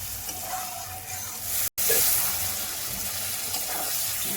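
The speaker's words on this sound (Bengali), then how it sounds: "দিয়ে একসঙ্গে আমরা কষতে থাকবো।" Ginger-garlic masala sizzling and being stirred in a pan over a medium-low flame, a continuous close hiss with light scraping, broken by one brief dropout.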